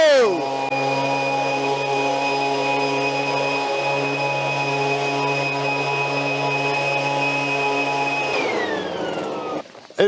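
Leaf blowers, including a STIHL BR800, run at full power with a loud steady whine and drone held for about eight seconds, then wind down sharply.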